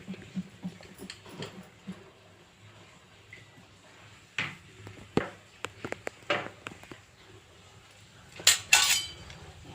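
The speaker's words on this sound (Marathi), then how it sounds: "आता याला चमच्याने सागळ ढवळत राहिलं पाहिजे" A spoon stirs ghee in a pan on a gas stove, making intermittent metallic clinks and scrapes in irregular bursts, with a few sharper knocks near the end.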